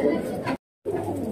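Pigeons coo in a soft, low, continuous murmur, broken by a brief silent gap halfway through before the cooing resumes.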